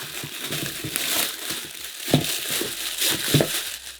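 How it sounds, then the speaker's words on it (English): Plastic bag crinkling and crumpling close up, with irregular crackly rustles and a few sharper snaps as the packaging holding Adidas Predator football boots is pulled open. "here they are in a plastic bag, so we'll open these up."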